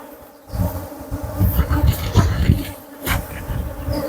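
Honeybees swarm and buzz around an open beehive, a dense, steady drone that swells and wavers as bees pass close by, with no talking.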